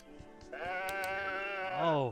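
A sheep in the video game Woven gives one long, loud, wavering bleat with a rising tail at the end, preceded by a few soft taps and heard alone without talk.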